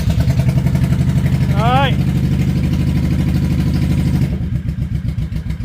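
A 2004 Honda Shadow VT1100 Sabre V-twin motorcycle engine is started and settles into a steady, loud, close-up idle with a rhythmic low throb, a brief rising whine during cranking, and someone speaking briefly over it.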